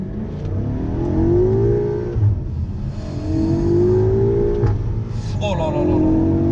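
A BMW M5 F90 with a 600 hp engine and single-clutch gearbox revs hard while drifting in rear-wheel-drive mode, its pitch rising and falling in repeated surges, loud and close, with someone talking over it.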